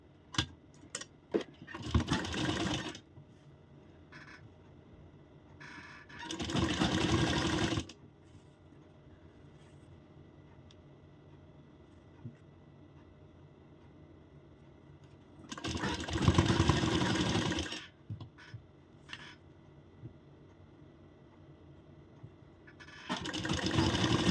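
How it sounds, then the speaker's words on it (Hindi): A sewing machine stitches a gathered kaptan-style blouse, running in several separate bursts of a few seconds each with quiet pauses between, close and fairly loud. "अब हम इस पर सिलाई लगाएंगे"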